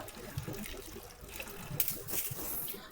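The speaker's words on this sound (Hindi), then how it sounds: "अब थोड़ा सा मैं पानी छिड़क दूंगी, ज़्यादा देर तक ये ताज़ा रहेगा" Water is sprinkled by hand over fresh flowers, making soft, brief splashes and trickling patters at close range, with a stronger burst of spray near the end.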